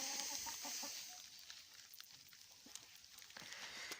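Hens cluck in short bursts over a quiet outdoor background in early March snowfall, several birds at a moderate distance, with scattered chirps between the clucks.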